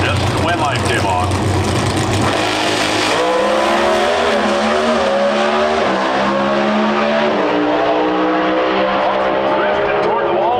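Pro Stock drag cars at the NHRA Route 66 Nationals in Chicago roar down the strip, loud and close, with engine pitch climbing through gear changes while an announcer talks over the noise.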